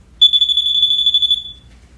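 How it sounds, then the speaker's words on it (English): A hydrosensor moisture detector beeps on wet carpet, giving one steady, high electronic tone that lasts a little over a second, loud and close, with no one speaking. "this hydrosensor will light up and beep when it comes into contact with something wet"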